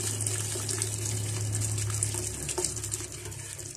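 Hot water pours steadily into a pressure cooker while bhuna gosht is being made, a continuous close splashing gush with a low steady hum underneath, heard alone.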